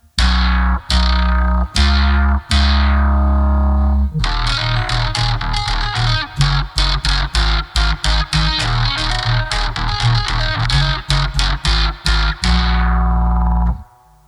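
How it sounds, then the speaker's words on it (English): Loud distorted synth notes through a BOSS VO-1 vocoder in talkbox-style mode with no mic, FM synthesis, sawtooth two octaves down, a few sustained stabs followed by a fast rhythmic run of chopped notes. "It's a more retro sound, obviously emulating a Talkbox."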